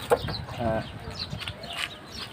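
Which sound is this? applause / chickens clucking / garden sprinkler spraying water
chickens clucking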